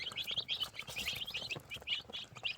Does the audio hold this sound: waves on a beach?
no